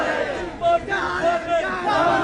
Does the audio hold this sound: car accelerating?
no